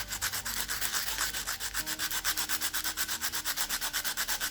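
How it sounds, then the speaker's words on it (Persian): A fine-grit sandpaper rubs across a turquoise inlay in jewelry with fast, rhythmic back-and-forth strokes, a steady scratchy hiss pulsing evenly and close, with no voices. "بعد با یه سنباده گرید بالاتر و نرمتر"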